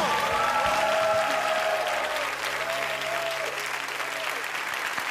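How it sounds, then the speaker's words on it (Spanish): A talent-show audience at the Got Talent Chile quarterfinals applauds a singer, with loud, sustained clapping and crowd noise. A held musical tone and some voices sit beneath it before the applause thins slightly toward the end. "El aplauso para esta tremenda voz"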